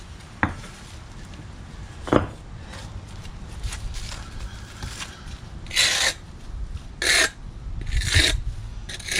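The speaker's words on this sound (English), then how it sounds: "what I'm doing is I'm scraping off this material because putting the bricks back down, I'll need them to be relatively clean" Scraping dirt and sand off interlock paving bricks from a sunken walkway, with intermittent rasping strokes and scuffs, some short and sharp, others longer gritty scrapes, close and fairly quiet.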